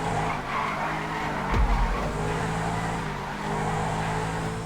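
Tyres squeal and skid as a car corners hard in GTA 5 Online, a sustained screech over loud engine roar with a sharp thump partway through, no voices.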